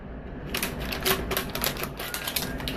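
Paper covering is peeled off a small container: a close, crackling, rapid rustle that starts abruptly and tears on in quick ticks for a few seconds.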